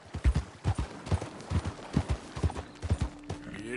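A horse galloping in the video game Red Dead Redemption 2: steady rhythmic hoofbeats pound close and loud throughout, with a faint mechanical tone near the end.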